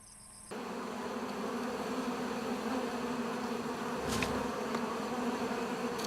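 Hornets buzzing in a swarm around their hive under attack by Oriental honey buzzards, a dense continuous drone that sets in abruptly after half a second and holds steady, with a brief rustle partway through.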